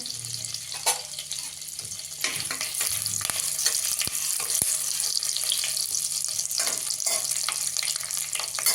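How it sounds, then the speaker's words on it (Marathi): Thin slices of ginger and garlic sizzle in a pan of butter and oil, a steady bright frying hiss with a few clinks and stirring scrapes throughout. "आता त्यामध्ये हे आल्याचे केलेले पातळ काप आणि लसूण ते घालतेय।"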